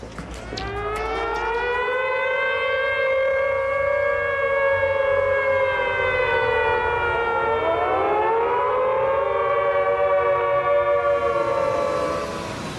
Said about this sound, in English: we're gonna sound the sirens in Dallas County